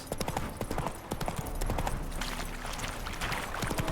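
Horse hooves clip-clopping in The Witcher 3 game, a brisk continuous run of close, crisp hoofbeats with a steady uneven rhythm, loud and alone with no talk over them.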